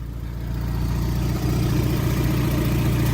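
Steady, close idle of a Mazda MX5 engine swapped into an MGB GT, an even low rumble with a faint rhythmic pulse and no other sounds.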